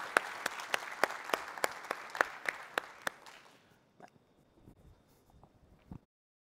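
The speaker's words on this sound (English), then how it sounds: "So I would really like to give a round of applause to all the amazing people." A small conference audience at a WebAssembly CMS talk gives a round of applause, a dozen or so crisp, evenly spaced claps near the microphone, then fading into scattered, quieter claps before stopping.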